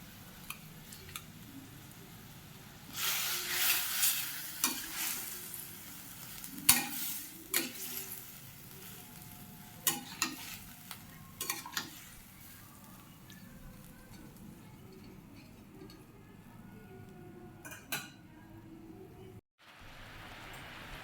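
Jaggery is stirred into a cooking chalta (elephant apple) pickle, producing a soft background sizzle with scraping stirs and a few sharp spoon knocks, fairly quiet and close.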